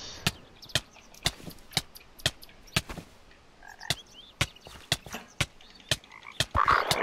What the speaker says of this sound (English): Me getting thrown around by toads.